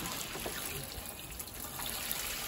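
Steady water trickling and splashing as pet birds are showered, a continuous close spray with no clear pauses.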